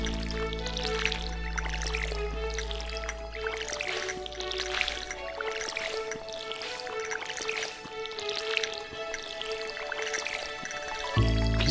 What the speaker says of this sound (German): Gießen wir mal schnell hier.